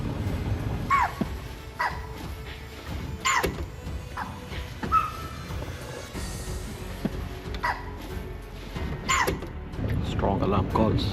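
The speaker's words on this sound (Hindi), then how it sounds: "Strong alarm calls, लंगूस, spotted dears, sambar dears सब चिल्ला रहे हैं।" In tiger-tracking forest country, langurs, spotted deer and sambar deer give repeated sharp barking alarm calls, spaced out and fairly near, over steady outdoor background noise.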